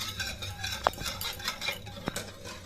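Two eggs are whisked in a bowl for an onion cake, heard as a steady close rhythmic clatter of the whisk with a couple of sharper clinks against the bowl, and no voices.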